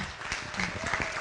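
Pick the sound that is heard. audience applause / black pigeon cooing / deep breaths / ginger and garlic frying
audience applause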